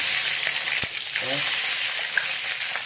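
Curry leaves dropped into hot oil after mustard seeds have popped give a steady, close hiss of frying with a short crackle partway through, and no talk.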